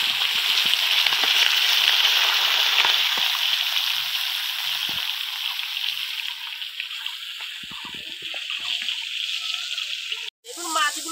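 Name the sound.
chital bele fish frying in oil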